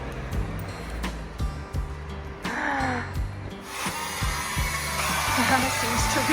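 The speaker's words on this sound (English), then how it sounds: "We got ourselves a vacuum cleaner." A new vacuum cleaner running inside a camper, a steady whirring motor drone with knocks and rattles around it and a brief rising whine, while people talk over it.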